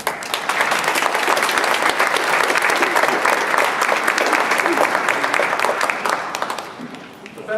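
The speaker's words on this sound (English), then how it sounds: "Give them a round of applause." A crowd at a Women's History Month reading applauds the readers, a loud and sustained burst of many hands clapping that fades out near the end.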